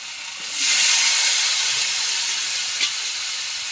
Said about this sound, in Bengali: আদা জিরে বাটা তেলে দেওয়া হবে।